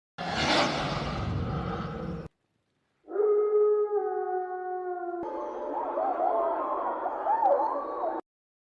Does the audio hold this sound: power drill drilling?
no